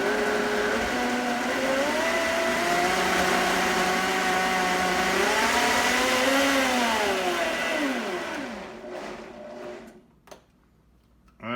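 A blender whirs loudly and steadily as it purees a pork tinga marinade with onions, its pitch rising and dipping as contents churn, then winds down and stops, followed by a few clinks.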